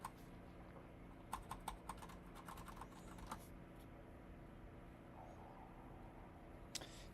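Faint typing on a Kinesis Advantage 360 ergonomic keyboard: a few quick clusters of soft key clicks over a steady room hum, then a long quiet gap and one last tap.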